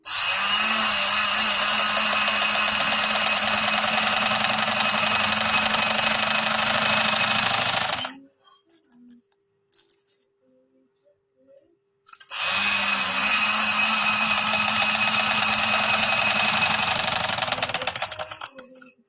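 An electric sewing machine stitches elastic into a casual trouser in a long loud whirring run, pauses for a few seconds with faint handling clicks, then resumes the same rapid steady buzz.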